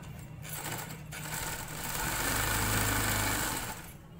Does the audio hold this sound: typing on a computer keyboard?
no